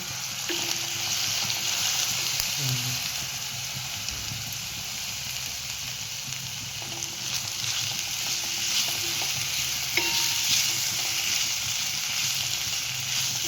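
Ambadi (roselle) leaves sautéing with rice grits in a pan, a steady soft sizzle with occasional scraping stirs of a spoon, alone and fairly close.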